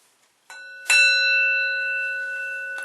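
A single bell is struck twice, a soft tap followed by a louder ring, and it leaves a clear, sustained metallic tone that slowly fades in a quiet space.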